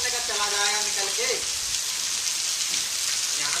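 Heavy monsoon rain pouring steadily in a forest during the rainy season, a dense continuous hiss with a voice briefly heard at the start.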